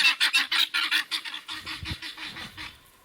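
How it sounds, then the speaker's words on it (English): Geese honking in a rapid series of loud, bright calls near the listener, fading into lower rustling and softer noises toward the end, outdoors on a rainy day. "Birds."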